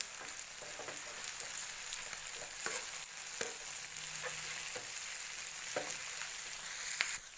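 Kanda batata poha is stirred with turmeric and salt in a hot pan, the soft sizzle of frying broken by a series of sharp spatula scrapes and knocks against the metal.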